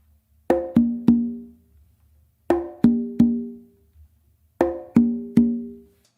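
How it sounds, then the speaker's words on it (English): Open slaps on a hand drum, played as three groups of three sharp strikes, each group a quick triplet with ringing decay, alone and close up. "Now if we were to do open slaps,"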